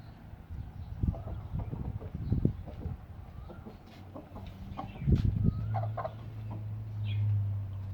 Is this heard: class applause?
no